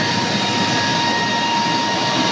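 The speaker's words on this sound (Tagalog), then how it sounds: "variable frequency drive sa raw water booster pump number 1, 30 horsepower" A 30 horsepower raw water booster pump on a variable frequency drive gives a loud, steady broadband roar with a faint high tonal whine, continuous and close, with no speech.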